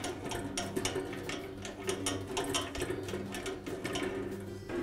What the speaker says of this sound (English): I'll loosen the tension on the blade.